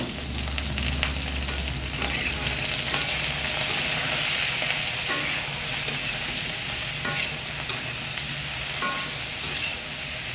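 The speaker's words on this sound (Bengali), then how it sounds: "ইলিশের শুটকি মাছ রান্না করছি।" Dried hilsa fish cooking in oil in a pan, a dense continuous sizzle with scattered stirring scrapes and light clicks, close and steady throughout.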